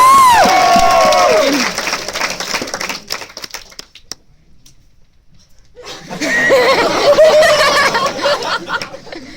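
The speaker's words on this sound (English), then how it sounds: "Give them a round of applause." A grad night hypnotism show crowd: loud voices and tonal singing at first, then a brief near-silent lull, then a burst of cheering and clapping that swells and stays loud to the end.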